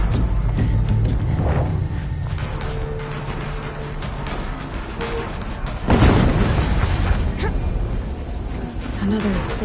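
An explosion booms in Horizon Zero Dawn Remastered, with a loud broadband burst near the middle over continuous rumbling game ambience and scattered impacts, and voices talking throughout.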